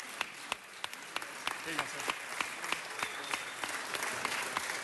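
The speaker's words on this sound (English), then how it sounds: "Let's give them a big 2015 round of Narbonne applause." Sustained applause from a crowd in a city council chamber honoring a championship high school team, with dense clapping throughout and a voice briefly speaking over it.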